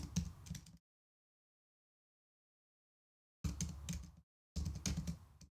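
Rapid clicking keystrokes on a computer keyboard while live-coding in C, close and clear in three short bursts separated by silent gaps.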